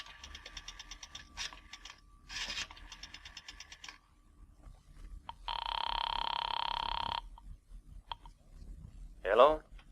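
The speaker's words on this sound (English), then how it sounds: "dropped a nickel in the slot, and dialed" An old-time radio drama scene of a drugstore payphone: a nickel drops into the slot, then a run of rapid rotary-dial clicks and a steady ringing tone, near and clear, with a few short clatters.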